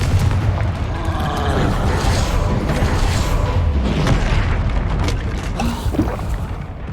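The Confringo blasting spell in Hogwarts Legacy, loud booming explosions and crackling bursts in dense, continuous combat noise with no pause.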